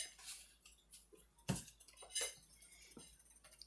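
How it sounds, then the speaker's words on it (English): A spoon stirring a cornstarch mixture in a cooking pot: faint, sparse clinks and soft scrapes of metal against the pot, quiet and close, with no voices. "I stir this all together so that that cornstarch isn't going in by itself"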